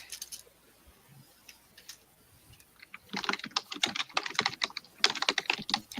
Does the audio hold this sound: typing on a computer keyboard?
yes